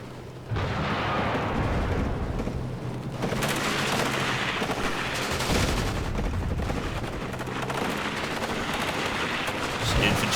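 Sustained gunfire and artillery supporting fire from the WARNO battle game, a dense, loud barrage of shots and booms rolling continuously with few breaks, no voices.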